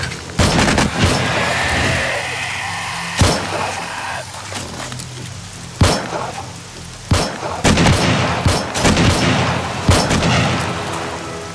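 Loud repeated gunfire in the survival game 7 Days to Die, sharp booming shots arriving in irregular bursts and rapid clusters over a dense, noisy game background, with no talk.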